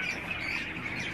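Birds squawking among chickens and roosters at a bird market in Jalalpur Jattan, Gujrat, Pakistan, a steady dense chorus of calls close by with no talk.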